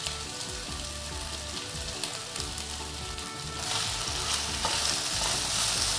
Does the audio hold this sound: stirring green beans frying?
yes